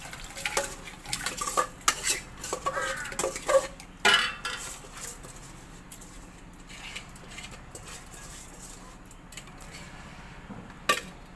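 Sweets being stirred in a pot at an outdoor picnic, metal spoon scraping and clanking against the pot in irregular bursts, close and fairly quiet, with a soft bubbling background.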